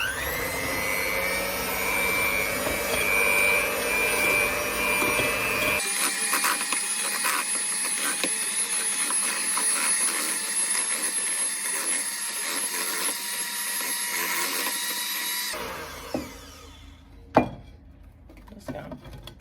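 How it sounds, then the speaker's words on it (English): An electric mixer whisks pumpkin scone mixture with a loud, steady motor whine and whir that changes tone partway through, then winds down and stops with a clunk near the end, alone and close. "I've just got my mixer and we're just going to whisk that around for a few minutes"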